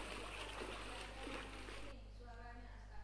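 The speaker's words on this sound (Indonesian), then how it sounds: "ini ada suara orang mencebur ke air ya," Water churns and splashes loudly as a person plunges in, then settles into a softer sloshing and bubbling as they move through it.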